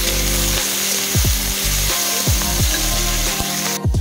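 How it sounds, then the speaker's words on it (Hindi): Whole spices (khada masala) fry in a pan for egg curry with a dense, continuous sizzle and crackle, broken by a few scraping stirs, close and loud with no talking. "और अब कुछ खड़ा मसाला, इसको भी थोड़ी देर के लिए हम फ्राई कर लेंगे"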